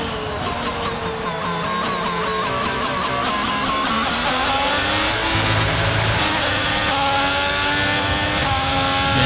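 Formula 1 race cars at the British Grand Prix in the F1 22 video game, loud high-revving engines whining and shifting pitch as several cars run close together, with no voices.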